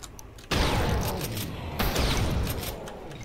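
Heavy shooting in the Doom mod Brutal Doom, a sudden loud onset of gunfire and explosive noise that holds steady, with another burst partway through.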